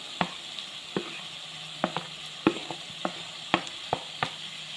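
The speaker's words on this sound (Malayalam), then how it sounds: "അപ്പോൾ എല്ലാം കൂടി നന്നായിട്ടൊന്ന് വഴറ്റിയെടുക്കാം." Carrot and potato sautéing in a pan for upma, a gentle steady sizzle broken by about a dozen sharp spoon clinks and scrapes as the pieces are stirred, close and without talk.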